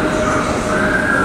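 A West Midlands Railway diesel unit, class 172, runs at Birmingham Snow Hill station with a loud, steady rumble and a faint high wheel whine that carry throughout the brief moment.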